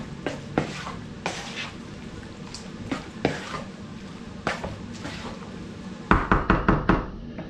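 Macaroni pasta salad with dressing is stirred in a bowl, producing sticky squelching and irregular spoon knocks against the side, ending in a quick run of several louder taps. Nobody speaks.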